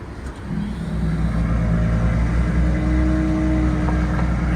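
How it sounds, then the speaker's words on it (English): A 2025 BMW X3 M50 SUV starts by key fob remote start, its engine settling into a steady, moderately loud idle hum with no talk over it. "Just like this, the car will start remotely"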